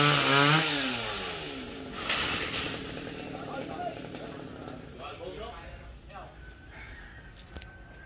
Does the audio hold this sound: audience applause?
no